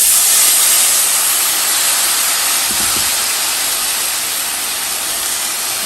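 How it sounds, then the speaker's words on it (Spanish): Blended tomato poured into a pot of hot, browned soup pasta, a loud, steady hiss of sizzling, close and continuous, easing off slightly near the end. "Ya cuando veas doradita tu sopa, le vamos a agregar el jitomate licuado."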